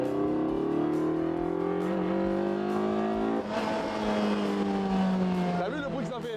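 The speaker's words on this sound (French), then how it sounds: "Et ça le bruit qu'on entend, c'est l'air qui rentre dans le moteur" Lotus 340R with a naturally aspirated engine accelerating, its intake roaring in rising harmonic tones that climb steadily, dip briefly at a gear change, then rise again loud and close.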